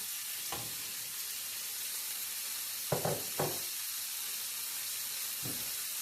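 Broccoli and carrot frying in a pan give a steady close sizzle, with a few brief stirring clatters breaking through the continuous hiss.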